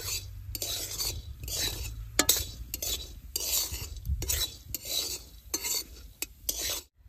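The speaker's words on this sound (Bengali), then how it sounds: "অল্প তেল দিয়ে বেশ সুন্দর করে বাইজা নেব।" Lentils fry in a little oil while a utensil scrapes and stirs them in the pan, giving repeated rhythmic rasping strokes over a low sizzle, close and fairly loud.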